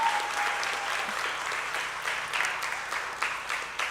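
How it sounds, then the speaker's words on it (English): Applause breaks out at an Alpha Jr. School graduation ceremony for the class of 2024: a full room clapping loudly and continuously, with scattered sharper claps and a slight swell partway through. "So give him a round of applause for that."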